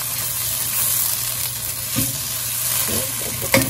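Grated tomatoes sizzle in a pan with tomato paste, a steady close frying hiss with a few soft scrapes and clinks of stirring.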